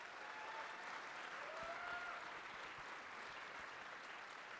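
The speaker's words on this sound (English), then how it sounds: "A huge round of applause for Chris and all of the organizers of this" Conference audience at an opening and welcome session giving sustained applause, a continuous, even roar of many hands from a large hall, heard from a distance at low level, with a faint tone briefly audible behind it.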